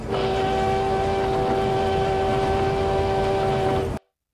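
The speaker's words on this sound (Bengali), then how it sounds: "ট্রেনের আওয়াজ পাই।" Train sound effect in an audio horror story: a steady rumbling train with a sustained horn tone held for about four seconds, then cut off abruptly, with no voices.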